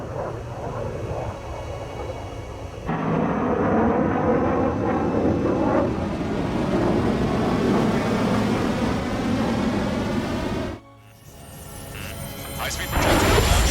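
Jet aircraft roaring in the Ace Combat 7 video game as a bogey closes at high speed, a loud sustained engine rush that swells, cuts out abruptly, then builds again beneath in-game radio voices.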